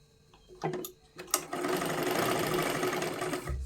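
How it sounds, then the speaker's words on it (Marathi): A sewing machine stitches a katori blouse with a double line of stitching, starting after a few short clicks and bursts, then running steadily and close for several seconds. "त्याच्यावरतीच परत आपल्याला एक डब डबल शिलाई घ्यायची आहे"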